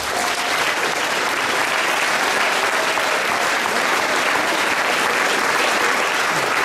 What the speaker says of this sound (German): Ich glaube, er hat auch heute darum nochmal einen recht herzlichen Applaus verdient.